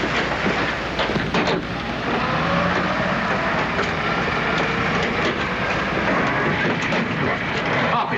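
A moving train rumbles steadily throughout, a dense continuous roar with faint rhythmic clatter of wheels over rail joints.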